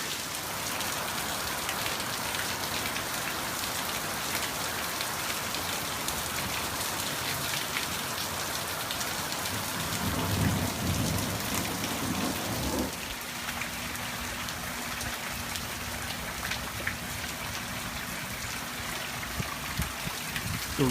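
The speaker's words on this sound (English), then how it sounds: "The rain is slowing down now." Rain falling in Arizona at a school, a steady close patter on surfaces with dripping and trickling water throughout, plus a faint low hum joining partway through.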